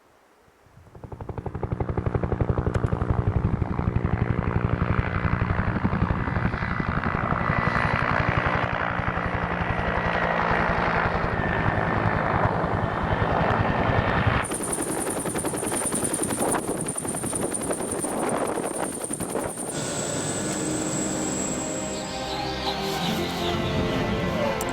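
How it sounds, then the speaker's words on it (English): Helicopter arriving for a pickup on the Greenland ice sheet, a loud, close, sustained rotor thump and turbine whine that builds quickly and holds for over twenty seconds, with a high engine tone emerging later. "before the chopper woke us both from our dream"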